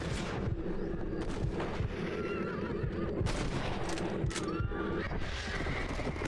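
Horse in the Red Dead Redemption video game, with repeated whinnies and snorts over a steady background of hooves and game ambience, fairly close and moderately loud.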